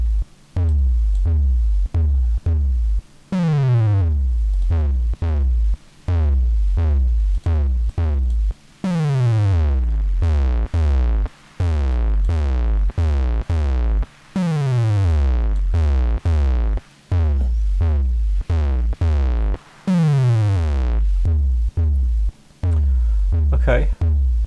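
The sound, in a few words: two bass audio pieces played together in Reaper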